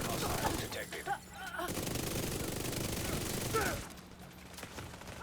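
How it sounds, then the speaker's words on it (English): Rapid, sustained LMG machine gun fire from an armored enemy in The Division 2, dense continuous bursts up close that cut off abruptly, followed by quieter background game sounds. "Never try to face tank that LMG guy."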